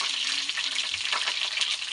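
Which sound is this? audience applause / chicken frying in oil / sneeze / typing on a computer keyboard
chicken frying in oil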